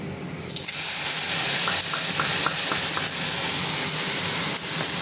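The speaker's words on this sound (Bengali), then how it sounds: "এখন আমি এই পেস্টটা দিয়ে দেব।" Mustard paste goes into warm oil in a wok and sets off a sudden, close sizzle. It keeps up as a steady hiss, with light rhythmic clicks of stirring partway through and no voices.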